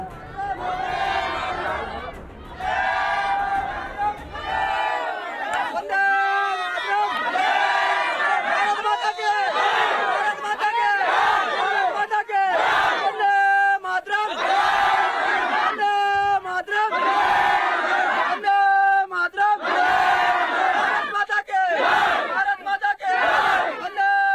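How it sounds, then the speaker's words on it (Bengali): A crowd chants slogans in loud, rhythmic call-and-response bursts while a border fence is built. The surging shouts repeat steadily for the whole stretch, close and forceful. "এই হলো আপনার রাজ্যের সীমান্তে বেড়া দেওয়ার সময়কার স্লোগান"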